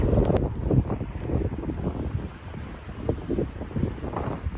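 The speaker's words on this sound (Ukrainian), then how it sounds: "Вітер, звісно, жорсткий." Strong wind buffets the microphone in heavy, uneven low gusts, rumbling continuously with no voices.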